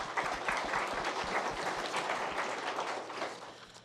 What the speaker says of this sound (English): Let's give Mr. Raines a round of applause.